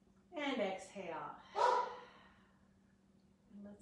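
A dog barks a few times, muffled and moderately close, during a quiet indoor yoga session, with a gap of near silence after the barks.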